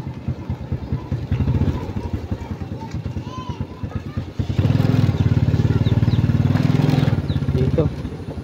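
A motorcycle engine putters at low speed while being parked in a garage at a barracks, a rapid regular idle that grows louder and fuller midway, then settles again, steady and close.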